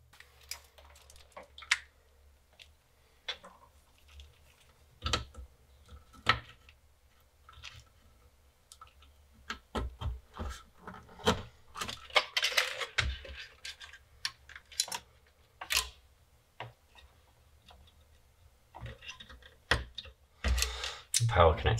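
Someone typing on a Commodore 64 breadbin keyboard during a repair test, scattered sharp key clicks in irregular bursts, fairly quiet and close, with occasional soft talk.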